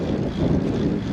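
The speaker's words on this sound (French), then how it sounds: "Vent de côté, piste complètement à découvert." Strong side wind buffeting the microphone on an open, exposed gravel track during a long bike ride, a loud continuous low rumbling roar with no voices.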